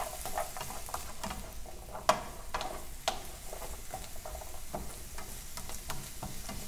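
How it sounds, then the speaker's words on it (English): Carrots cook in melted butter for a homemade chicken soup, with a soft, steady sizzle under repeated clacks and scrapes of a utensil stirring them, one sharper knock standing out midway. "we'll go ahead and put in our carrots. And we're just going to mix all these up."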